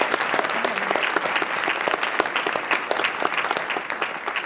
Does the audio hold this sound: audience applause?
yes